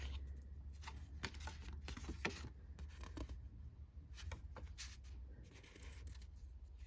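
Scrapbook pages flip and shuffle in soft, papery bursts, a run of quick rustles and slides at close range, quiet overall with a low steady hum underneath.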